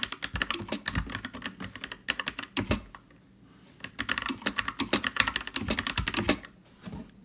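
Close, brisk keystrokes on a Freewrite smart typewriter's mechanical keyboard, with bursts of rapid clicking, short pauses and several prominent, louder space bar clacks standing out among the lighter key taps.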